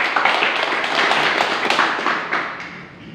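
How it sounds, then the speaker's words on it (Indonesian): A church congregation claps together after a prayer at a Christian service, a dense, fairly loud burst of many hands that holds steady for about three seconds and then begins to fade. "Tepuk tangan dulu buat Tuhan."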